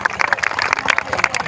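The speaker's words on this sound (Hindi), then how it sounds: "जोरदार तालियां होनी चाहिए" An audience at a gathering claps in honour of a guest, giving a dense patter of many hands under some voices.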